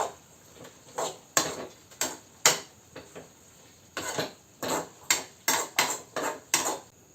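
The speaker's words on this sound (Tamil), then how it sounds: "போட்டுட்டு நல்லா கிளறி விட்டுருவோம்" A spoon stirring chicken gravy in a pot, with a run of distinct metallic scrapes and clinks against the pot in an irregular rhythm, close and fairly loud.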